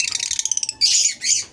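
Caged lovebirds or parrots give a quick run of sharp, rhythmic chirps, then two harsher, louder squawking calls, heard close up with no talking.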